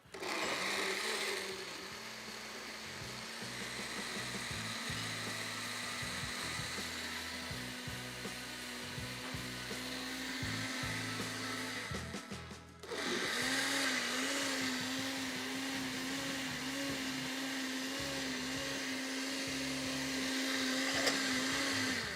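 A kitchen blender whirs steadily while blending a smoothie, loud and continuous with a brief dip near the middle before the motor picks back up, no talking over it.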